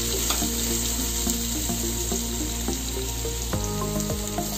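Onion and garlic sauté in hot oil, giving a steady sizzle with a few sharp clinks of a utensil against the pan and a constant background hum.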